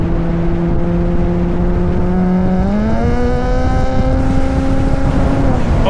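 A Ferrari California engine hums loud and close, its pitch climbing smoothly as the revs rise and then holding at a higher steady tone.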